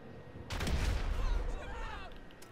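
Grenade explosions in Grand Theft Auto 5, heavy booming blasts with rumbling low end starting about half a second in and decaying with debris and echo, loud and close.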